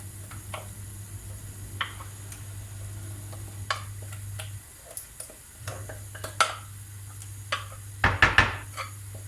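Revani cake batter stirred in a bowl, scattered light ticks and scrapes of a utensil against the dish, irregular and close, growing busier toward the end over a low steady hum.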